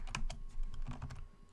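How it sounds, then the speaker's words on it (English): Rapid keystrokes on a computer keyboard while entering shortcuts in FL Studio music software, a quick cluster of close, crisp clicks with brief pauses between bursts and no talking. "highlight this first and then type in Alt-T in the keyboard"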